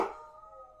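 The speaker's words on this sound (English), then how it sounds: "Are you listening to the other ones howling?" Several dogs howl together in a sustained, wavering chorus that starts loud and fades slightly over under a second, with no talking.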